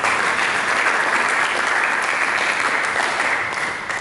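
A church congregation claps for Jesus in dense, continuous applause, loud and sustained throughout before easing slightly at the very end. No voices stand out over the clapping.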